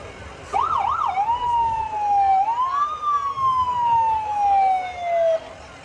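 A decorated ambulance at a Christmas parade sounds its siren, a wailing tone that sweeps up and down in quick cycles before settling into long rising and falling wails, loud and close throughout.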